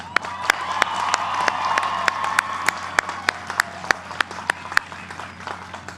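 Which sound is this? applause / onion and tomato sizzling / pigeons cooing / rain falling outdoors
applause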